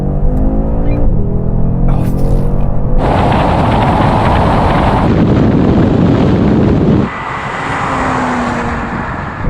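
An Audi RS3 accelerating hard in a drag race against a Tesla Model 3, a loud roaring engine climbing through the gears with distinct jumps at each shift, heavily buffeted by wind noise.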